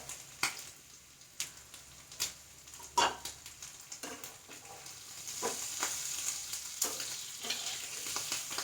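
Prawns frying in a pan for prawn roast, a soft continuous sizzle broken by sharp scraping clicks of a spatula turning them, no voices.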